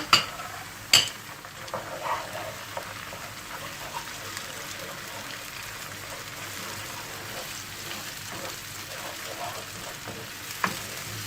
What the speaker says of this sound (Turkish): birazcık çiğ kokusunu aldıralım, hafifçe kavuralım